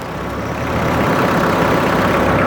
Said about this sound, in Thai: เป็นเครื่องยนต์ขนาด 4 สูบนะครับ 50 แรงม้านะครับ